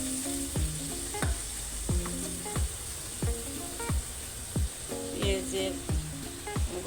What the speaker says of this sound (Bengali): এখন এটা ভালো করে নেড়ে নিচ্ছি, ভালো করে কষে নিচ্ছি